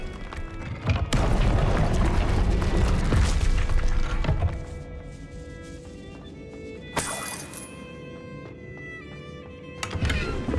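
Incendio fire spell cast in Hogwarts Legacy, a loud fiery booming burst lasting several seconds that fades into a quieter tonal hum, with sharp crackling hits near the end.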